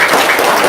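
Dense applause from an audience at a religious talk, a steady wash of clapping with no break.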